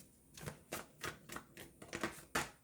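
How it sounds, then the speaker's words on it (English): A tarot deck being shuffled by hand, a run of crisp riffling bursts in uneven rhythm, close and moderately quiet, with no talk. "The cards are shuffling a little weird."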